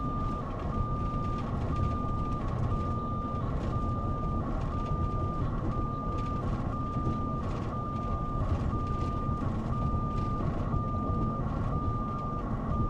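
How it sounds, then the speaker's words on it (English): Weather balloon telemetry beeps steadily about once per second during a storm research mission, a clear high tone pulsing over constant loud wind and vehicle rumble, with no talking. "You can hear the telemetry in the background there"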